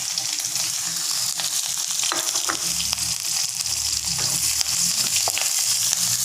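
Ginger, garlic and green chilli frying in oil with fennel for shark fish puttu, a loud continuous close sizzle with occasional stirring clicks and scrapes throughout.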